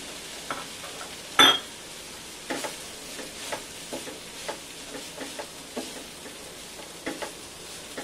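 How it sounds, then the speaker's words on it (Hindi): Rice tipped into thickened tomato puree in a pot makes a gentle, steady sizzle, broken by a clear clink of a utensil and several soft stirring scrapes spaced through the clip. "टमाटर की प्यूरी गाढ़ी हो गई है, अब हम इसमें चावल डाल लेते हैं।"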